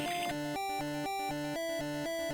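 The music theme from the Guilty Gear X Advance Edition video game plays as a short, clean looping synth passage with a repeating stepped melody, steady and moderately quiet.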